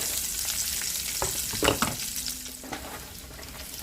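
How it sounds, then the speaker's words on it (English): Onions fry in a seasoned pan for chicken and rice, a continuous close sizzle with a few utensil scrapes and knocks partway through, no voices. "I'm going to add some onions. Let those cook down."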